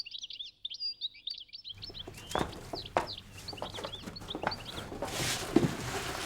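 A small goldfinch sings rapid twittering phrases, first alone and clear, then under a denser countryside backdrop of clucking and rustling farmyard fowl and other birds.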